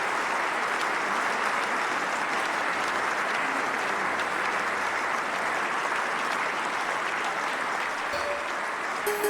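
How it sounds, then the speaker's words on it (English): Sustained applause and cheering from the crowd at an Olympic men's weightlifting event in London 2012, dense and even throughout without a break. "Well, plenty of crowd support here."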